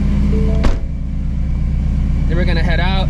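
A supercharged Shelby GT350 Mustang with a ProCharger P1R supercharger idles steadily while warming up, giving a loud, constant low rumble close by. A voice speaks briefly near the end.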